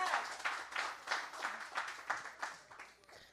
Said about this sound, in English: give Pam a round of applause